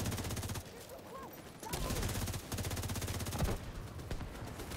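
Rapid automatic gunfire from The Division 2 aimed at an enemy turret, loud sustained bursts with brief pauses between them and a thudding low end under the crackle.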